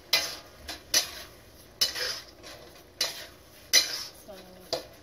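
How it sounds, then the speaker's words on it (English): Chopsuey with shrimp stirred in a pan: a utensil clinks and scrapes against the metal about six times in a loose rhythm, close and crisp over a faint background sizzle. "We're gonna stir it occasionally so it cook evenly"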